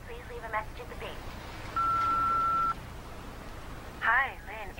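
An answering machine gives a single steady electronic beep lasting about a second, clear and mid-loud, set between a woman's recorded greeting and the start of a caller's message.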